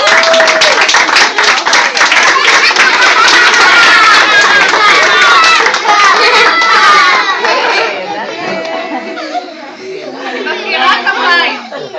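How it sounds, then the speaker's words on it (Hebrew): Young children at a Hanukkah class performance clap and shout together in a loud, busy crowd burst, rhythmic hand claps mixed with excited voices, fading toward the end before a brief swell. "כפיים."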